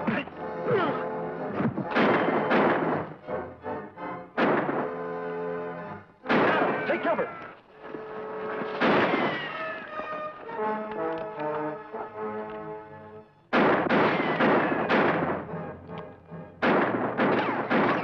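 Gunfire in a TV western shootout, repeated loud cracking shots and booming echoes in bursts with dramatic orchestral music running throughout.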